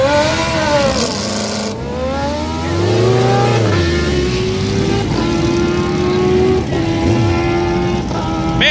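A race car at a hillclimb event revs hard and loud up close, its engine pitch climbing and dropping through several quick, short-geared upshifts in steady succession.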